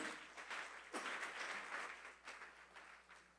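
Church congregation applauding during a Spanish-language sermon, a soft, fairly distant spread of clapping with a few sharper bursts, heard alone at low level.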